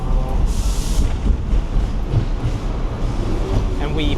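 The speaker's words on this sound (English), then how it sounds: "So all of these trams are going by, and they're called the Ding Ding Trams" Hong Kong Ding Ding trams rumble past on a busy city street, a loud, continuous low roar and rattle of wheels with a brief high screech, surrounded by traffic and crowd noise.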